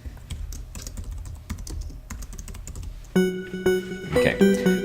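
Typing on a computer keyboard, a steady patter of light key clicks at a brisk uneven rhythm, later joined by sustained organ-like musical tones.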